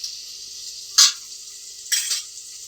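Pav bhaji masala being stirred into frying vegetables for pav bhaji: a quiet background sizzle with two brief scraping swishes of the spoon through the pan, close up and with no speech.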